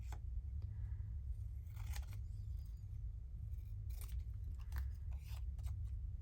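Scissors snip in short, separated bursts during a paper-crafting session for French Rococo ephemera, a few crisp cuts against a steady low background hum, with no talking.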